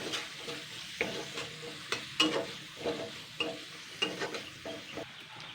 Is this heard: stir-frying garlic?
yes